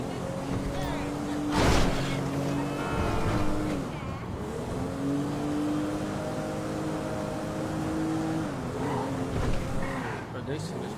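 A fast car in a video game roars as it accelerates, its engine pitch rising and falling through gear changes. Brief skids and a loud burst come early, and game dialogue is heard over the engine noise.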